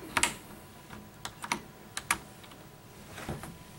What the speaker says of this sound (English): to take a key out, you just push the tool around the key to where it clicks